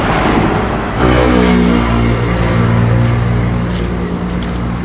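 A motorcycle engine drones close by with a steady, throaty hum that swells slightly as it revs, staying loud throughout.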